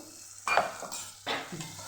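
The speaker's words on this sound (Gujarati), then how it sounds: "એને પણ મિક્સ કરીને સાતળી લઈશું" Two short scraping strokes of a spoon through spices and sugar sautéing in a pan, with a soft hiss continuing between them.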